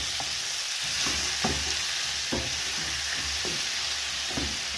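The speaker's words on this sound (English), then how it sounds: "Changanya, mix that." A pan of goat tripes and tomatoes sizzles loudly and evenly up close, with rhythmic scraping strokes of a spoon stirring through the mixture every second or so.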